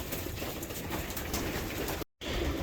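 Pigeons in a loft cooing steadily against a busy, noisy background, with soft low calls running throughout and one brief dropout near the end.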